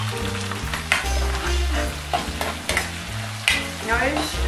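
A refrito with vinegar, fried in a pan for sea bass, sizzles loudly close up, with stirring scrapes and short bursts of spitting crackle.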